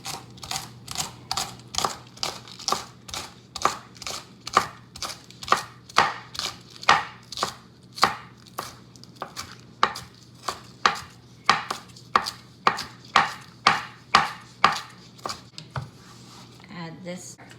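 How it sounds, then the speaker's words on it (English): A knife chops scallions on a cutting board in a long, steady series of crisp, close thuds at an even rhythm, slowing slightly near the end, with a quiet background hum. "So I'll cut the end off the scallion, cut the green parts, put the green part with the white,"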